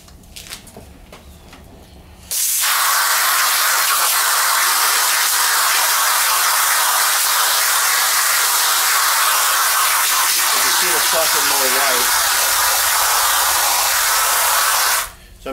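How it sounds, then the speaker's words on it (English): Garden hose spraying water onto aquarium filter socks outdoors, a loud steady hissing rush that starts abruptly and runs unbroken for about thirteen seconds before cutting off, with faint background sound before and after. "So we'll go ahead and get the hose and then I'll hose them off."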